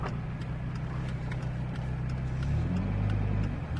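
A Dodge Viper SRT-10 muscle car's big engine gives a loud, steady low rumble that deepens and swells toward the end, with no talking.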